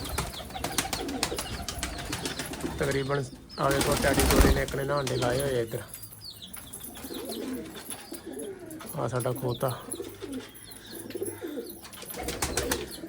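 Teddy pigeons cooing in a breeding loft, several birds close by with repeated throaty coos and some wing flutter, while someone talks among them.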